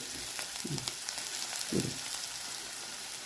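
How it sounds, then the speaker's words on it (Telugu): Onions fry in ghee with a steady, close hiss of bubbling throughout, and two brief low scrapes of stirring can be heard under it. "ఇవి కొంచెం ఉల్లిపాయలు కొంచెం ఎర్రగా అయ్యే వరకు వేయించుకోవాలి"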